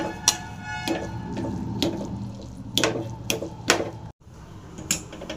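Liquid is poured into ration raw-rice ven pongal and stirred, giving a series of wet clinks and scraping taps of a spoon against the pot, close and fairly clear, with no talk.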